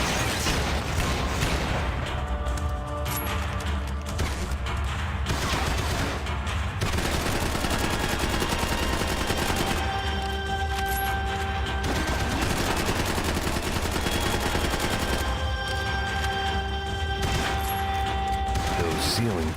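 Gunfire from the video game Max Payne 3 comes as sustained loud shooting and bursts, mixed with game music tones and a voice talking over the action.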